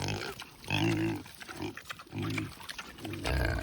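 Pigs on an off-grid homestead grunting and oinking close by, a series of short, loud snorts with brief pauses between them and no talk.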